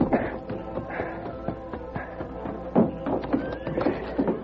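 A horse neighs in a western ranch scene from a radio drama, with repeated whinnies and shuffling, clip-clopping hooves close by and steady throughout.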